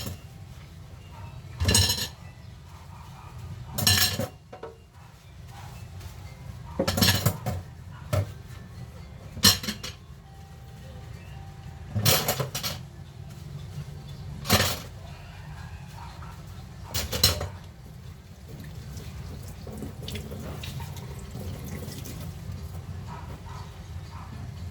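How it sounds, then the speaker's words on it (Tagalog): Plates and dishes being washed by hand, with irregular clinks and clatters of crockery and cutlery every few seconds over a low background hum, close by, no talking. "Hugas muna ako ng mga plato"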